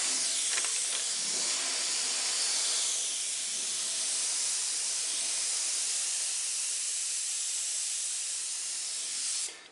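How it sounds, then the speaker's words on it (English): White spray paint misted across a piece in a steady, continuous close hiss that holds for several seconds before cutting off abruptly at the end. "we're going to spray this piece white"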